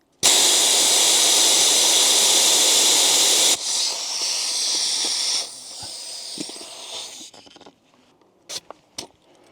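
A loud, close, steady hiss of air escapes a tire valve as the tire is let down to 30 psi. It drops to softer hissing in stages, then stops, leaving a few faint clicks and handling noises.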